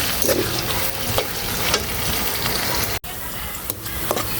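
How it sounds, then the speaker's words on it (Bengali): Onions fry in a pan, with a close, continuous sizzling hiss and occasional stirring scrapes. There is a brief dropout near the end. "তো এখানে আমার পেঁয়াজ ভাজা হয়ে গেছে"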